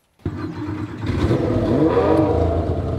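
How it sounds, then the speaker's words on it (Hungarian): A car engine in the racing game Test Drive Unlimited Solar Crown cranks and fires after a brief silence, then settles into a steady, rising mid-pitched drone with some revving, heard alone and close. "szeretném nektek akkor most itt nagyon hallhatóan bemutatni, milyen hangja van az autónak, amikor beindul"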